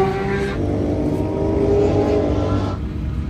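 A BMW S1000RR on a race track revs hard with a loud, rising high-pitched engine whine, then drops off toward the end as the sound fades, with no talking.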